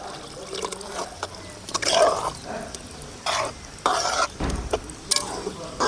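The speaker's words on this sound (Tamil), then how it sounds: "தண்ணி ஊற்றிக்கலாம்." Water being poured into a pan of potato kurma with ground chickpea and coconut paste, a sizzling, bubbling rush with stirring and scraping, loudest in bursts toward the middle and end.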